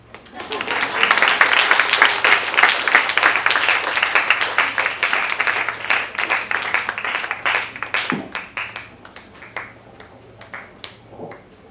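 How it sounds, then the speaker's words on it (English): Audience applause after a public science lecture, a loud swell of clapping that gradually thins into scattered claps, with a faint steady hum beneath. "This is the time you have applause."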